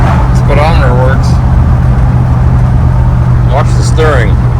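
An old 1964 Ford Galaxie with freshly finished brakes and mechanical work drives along a road with a steady, loud engine rumble and road noise, while someone talks over it.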